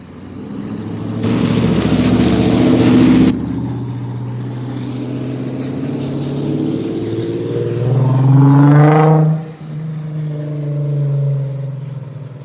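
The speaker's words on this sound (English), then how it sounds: "They out here with the big engines." Big car engines rev outdoors at a street sideshow, one roaring loudly up close before it eases, then another climbing steeply in pitch to a loud peak, cutting off and settling back to idle.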